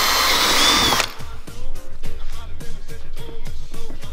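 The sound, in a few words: drilling holes in car bumper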